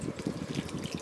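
Water poured onto potted plant soil, a short soft gurgling trickle with low bubbling pulses, close and quiet.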